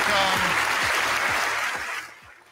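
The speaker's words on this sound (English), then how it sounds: "Everybody give Alec a round of applause" Audience applause follows a call to applaud a participant at a motivational talk, a dense wash of clapping that stays loud for about two seconds and then fades as it thins out, with a few low voice murmurs underneath.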